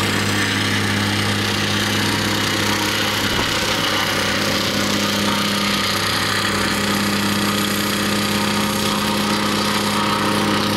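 A small engine runs loudly and steadily nearby, a constant droning hum like a lawn mower, with a brief rattling bump partway through.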